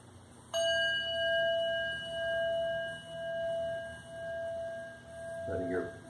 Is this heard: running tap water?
no